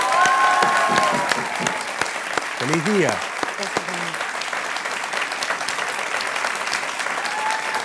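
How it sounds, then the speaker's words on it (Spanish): Studio audience applause on a television talk show, a sustained dense clatter of clapping that runs throughout, with voices speaking briefly over it partway through. "Un aplauso para ella, por favor."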